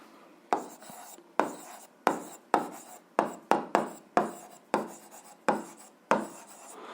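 Notes are written down during an eighth-grade physics exercise: about a dozen sharp, close strokes arrive in a fairly regular rhythm, each trailing a short scratchy tail in a quiet room.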